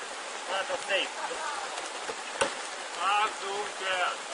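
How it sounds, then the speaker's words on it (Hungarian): Steady rain falls outdoors as a continuous close hiss while people talk over it. "Csak nem látszik, hogy esik az eső."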